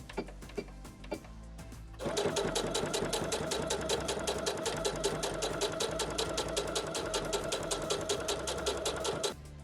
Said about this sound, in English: we're gonna sew it right along the edge, just like we did this one on the top side